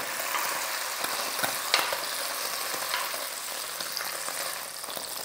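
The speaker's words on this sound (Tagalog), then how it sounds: "Iprito lang natin to ng 30 seconds sa bawat side." Chicken pieces for afritada frying in a pan, a steady close sizzle and crackle with occasional soft utensil clicks, no talking.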